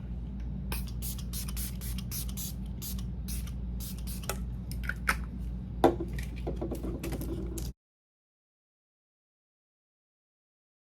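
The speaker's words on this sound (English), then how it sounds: "I am going to spray my face with the Milani Make It Last spray" Rapid bursts of hissing makeup setting spray onto a face come in quick succession, close and moderately loud, over a low steady hum, then stop abruptly into silence.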